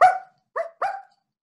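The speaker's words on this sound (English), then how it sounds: "Yes, it's a dog." A dog barks three times, sharp and close: one bark, a pause, then two quicker barks in succession, loud against an otherwise silent background.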